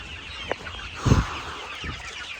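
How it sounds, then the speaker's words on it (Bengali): Sonali chickens on a poultry farm housing about 3000 birds give a few short clucks, with one louder cluck burst near the middle over a low barn background. "দেখেন আমার এখানে মোট 3000 সোনালী মুরগি আছে"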